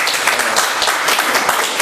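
A short burst of dense applause from an audience at a lecture on national pension and health insurance, steady and close, with no voices over it.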